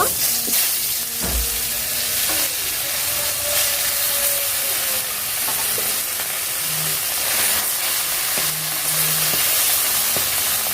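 Bhola fish fry in hot oil in a wok, a loud continuous sizzle and hiss with occasional clinks and scrapes of a utensil, and no one talking.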